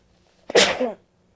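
A single sharp sneeze bursts out of near silence, close and loud, then fades quickly.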